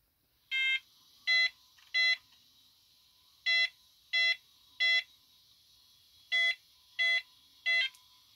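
A vintage computer's beeper sounds in short, evenly timed electronic tones, grouped in threes and repeated three times, clear and close against a quiet background.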